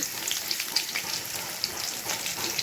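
Fennel seeds and garlic fry in hot oil in a kadai, giving a steady, soft crackling sizzle with scattered sharp pops, close and fairly quiet, with no voices.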